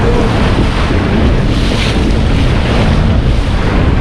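A fishing boat cruises around an island on open sea near Cape Keraudren in the Pilbara, engine and water rushing in a loud, constant wash mixed with heavy wind buffeting the microphone.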